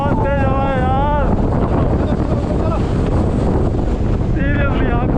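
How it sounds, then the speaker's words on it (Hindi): Strong wind roars without pause across the hilltop of Mullayanagiri, Karnataka's highest peak, loudly buffeting the microphone, with faint voices briefly rising at the start and end. "बहुत तेज हवा है यार।"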